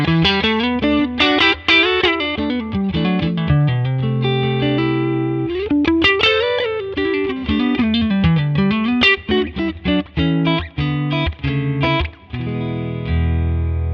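Electric guitar played through a Neural DSP Tone King Imperial Mkii clean tone with amp and pedal reverb, ringing chords and melodic single-note runs that sustain and decay, loud and close with no voices.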